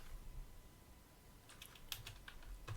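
Keys tapped on a computer keyboard at a Linux terminal, a few light, quick clicks near the end after a quiet pause, faint and close.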